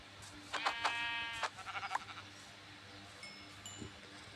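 A sheep bleats in the Minecraft-style video game From the Fog, a quivering bleat followed by a shorter second one, then fainter game sounds and a small distant call.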